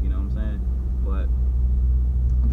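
A Volkswagen MK7 GTI with a newly installed DKM MB series clutch drives with a steady low engine rumble, while someone talks over it in short bursts.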